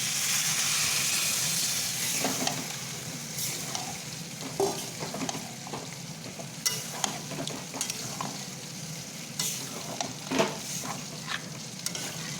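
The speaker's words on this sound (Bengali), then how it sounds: "বাটা ছিল সেই মশলাটা ঢেলে দিলাম" Ground spice paste poured into a hot pan for shukto fries with a loud hiss that settles into a steady sizzle, punctuated by repeated sharp scrapes and clacks of stirring against the pan.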